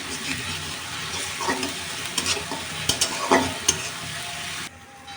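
Ground onion and garlic paste sizzles in a pan while a spatula scrapes and stirs, sharp clicks and taps over a dense frying hiss, close up, ending abruptly.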